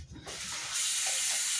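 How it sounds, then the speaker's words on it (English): A sink tap is turned on and runs steadily as hands are washed beneath it, a close hissing rush of water that grows fuller partway through. "I gotta wash my hands"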